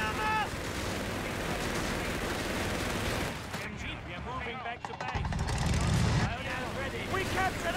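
Gunfire from a Company of Heroes 3 battle, with dense, continuous bursts of shots and distant blasts alongside in-game voice chatter and unit callouts throughout.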